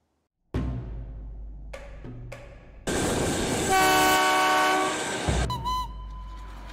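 A Chihuahua Pacific (Chepe) passenger train runs with a heavy rumble and clatter, then its loud multi-tone horn blares for a couple of seconds nearby before the rolling noise continues.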